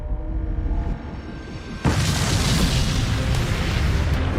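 A Big Bang explosion effect in a science documentary: a rumbling low build gives way to a sudden massive boom that sustains as a loud, dense roar to the end.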